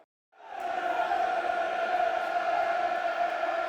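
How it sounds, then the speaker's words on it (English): Millwall supporters in a stadium during a match against Stoke City roar in a sustained, steady crowd swell that starts abruptly and holds at full volume to the end. "Mill crowd getting behind their side"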